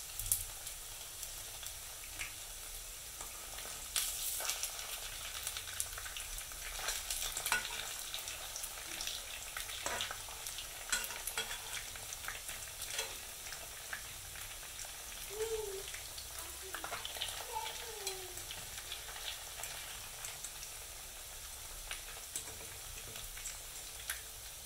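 Ugandan rice balls (namungodi) fry in a pot of hot oil and are stirred now and then. A faint, steady sizzle runs throughout, with light scraping and clinks of the utensil against the pot.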